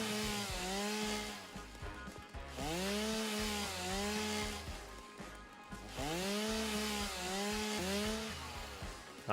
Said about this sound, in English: These ones I can still reach, so I'll just chainsaw them.